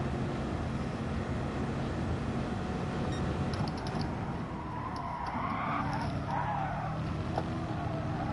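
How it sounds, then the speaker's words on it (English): Race cars in the Gran Turismo Sport video game drone steadily with a constant engine roar and faint skidding, loud and continuous throughout. "let me share the slipstream with Mr. Will"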